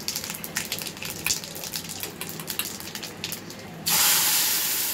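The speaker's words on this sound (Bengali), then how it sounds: "লঙ্কা, তেজপাতা দিয়ে দিলাম তেলে, আর একটু পাঁচফোড়ন দিয়ে দিলাম" Dried red chili, bay leaf and five-spice (panch phoron) sizzling in hot oil for a Bengali labra, a steady broadband hiss that jumps louder near the end as more goes into the pan.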